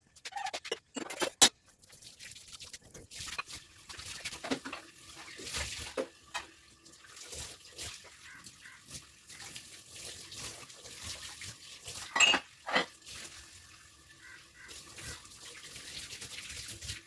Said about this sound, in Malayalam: ഞാൻ വേഗം തന്നെ പാത്രമൊക്കെ ഒന്ന് കഴുകി വെക്കാമെന്ന്